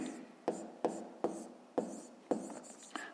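A pen writes a math inequality by hand for a fifth-grade exercise, producing repeated short scratching strokes in a steady rhythm, close and fairly quiet, with no voice over them.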